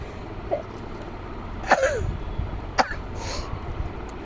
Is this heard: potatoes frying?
no